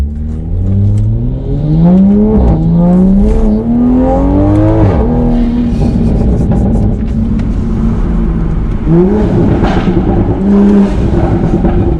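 A tuned Toyota A90 Supra with downpipe and intake modifications blasts through a tunnel or underpass, its engine loudly revving up through rising pitch sweeps with gear changes and echoing rumble, close and dominant throughout.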